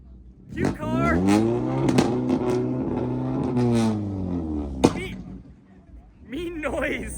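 A Buick Grand National revs hard at a car meet, the engine's rising and falling roar sweeping up and back down over several seconds, loud and near, with voices talking around it.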